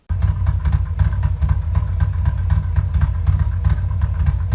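Harley-Davidson M8 motorcycle V-twin idling close up, a steady, even low rumble with regular pulses lasting several seconds, lacking a pronounced lopey chop.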